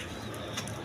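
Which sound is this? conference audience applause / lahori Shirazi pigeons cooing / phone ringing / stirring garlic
lahori Shirazi pigeons cooing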